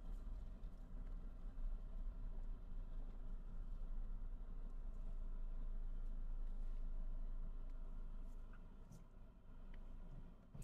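A 2023 Kia Sportage top-of-the-line model is driven a short way into the shade, its engine humming low and steady at close range for the whole stretch, easing off slightly near the end.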